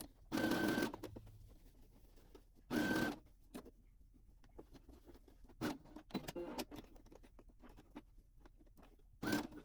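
A sewing machine runs stitches through fabric for carrot-shaped Easter treat bags, in a few short whirring bursts separated by quiet pauses and small handling clicks, close by with no talking.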